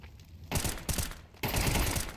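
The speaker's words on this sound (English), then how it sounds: "Beautiful shots to find the kill." Dense bursts of rapid gunfire in a competitive Counter-Strike match, two loud sustained volleys separated by a brief pause.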